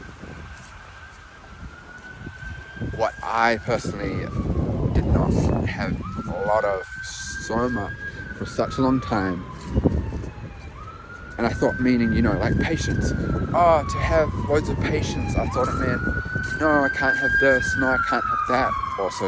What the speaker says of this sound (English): It's just an ambulance going past.